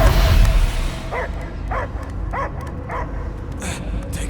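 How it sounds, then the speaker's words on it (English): A dog barks in the video game Guardians of the Galaxy, giving a series of about six evenly spaced barks close up over a low rumbling background. "I hear only barking."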